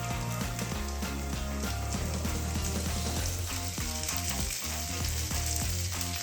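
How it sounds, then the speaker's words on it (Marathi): Onion and bell pepper fry in a pan for egg chilli, a dense steady sizzle up close with repeated stirring scrapes, and no voices. "कांदा आणि शिमला मिरची आपण त्याच्यात टाकून देऊया."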